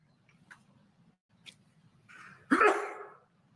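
A single loud sneeze bursts out near the end of a quiet courtroom stretch, preceded by faint sniffs over a low background hum.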